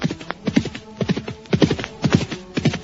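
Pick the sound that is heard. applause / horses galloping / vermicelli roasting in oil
horses galloping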